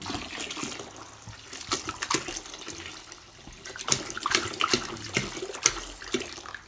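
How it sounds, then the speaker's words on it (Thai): Water pours and splashes into a banana white wine mix as it is topped up toward twenty litres, a steady running trickle with bursts of louder sloshing. "ใส่หน่อยเติมน้ำอีกนิดนึงใช่ยังไม่ถึง"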